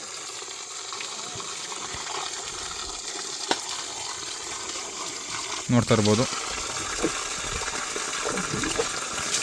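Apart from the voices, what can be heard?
water being poured for an elephant to drink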